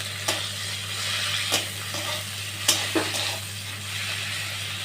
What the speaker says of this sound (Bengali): হলুদ ও লবণ মাখিয়ে চিংড়ি এখন আমি ভেজে নেব